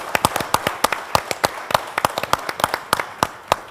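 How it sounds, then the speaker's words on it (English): A small audience at a geography conference claps for a few seconds, sharp separate handclaps close by forming a sparse, uneven round of applause with no talking over it. "a round of applause for you"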